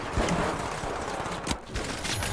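A video game sniper rifle shot and a grenade explosion ring out as sharp bursts of in-game gunfire, with one heavier blast partway through, all fairly loud and without speech.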